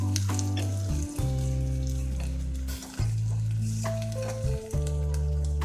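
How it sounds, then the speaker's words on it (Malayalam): Curry leaves and green chilies sizzling in hot oil for a carrot pachadi tempering, a loud, continuous crackling fry heard close, with steady tonal background music running underneath. "ഇതിലേക്ക് കറിവേപ്പില ഇടാം ആ പച്ചമുളക് കൂടി ഇട്ട് കൊടുക്കാം"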